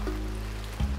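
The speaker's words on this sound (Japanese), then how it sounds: "大雨、あんなに晴れてたのに大雨。" Heavy rain pours steadily in a dense, even hiss, close and fairly loud for the whole moment, with no voices over it.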